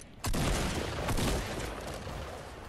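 Gunfire in Fortnite: a loud burst of shots erupts suddenly, then a second burst follows about a second later, trailing off into a sustained rumble.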